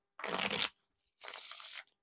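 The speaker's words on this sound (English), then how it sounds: "at first, the bridge shuffles feel a little bit clumpy" Two bridge shuffles of a new deck of Theory11 Purple Avengers playing cards, each a short, close, crisp riffle of about half a second, separated by silence.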